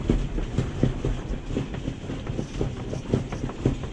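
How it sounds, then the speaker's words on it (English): Sailboat rigging rattles against the mast in strong wind, a dense continuous clatter of irregular knocks and metallic ticks over a low rumbling roar, loud and close, with no voices. "I'm really worried about the amount of noise and rattling that's happening on the mast too"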